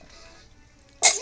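A dog sneezes once, sharp and close, near the end of a bath, breaking a quiet stretch of faint background noise.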